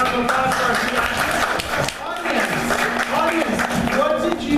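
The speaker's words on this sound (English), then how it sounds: "let's give a round of applause for our two actors" Audience members applaud two actors after a theatre exercise, with steady, moderately loud clapping mixed with voices and chatter throughout.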